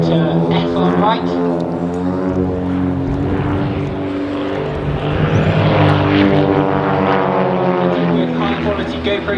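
Wildcat aerobatic propeller planes fly in formation at the East Kirkby air show, a loud, steady, droning engine roar that swells and shifts in pitch as they pass, with a commentator talking over it.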